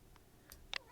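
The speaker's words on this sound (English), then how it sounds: "That is my cat." A domestic cat gives a few short, faint meows, brief chirping bursts over a low background hum.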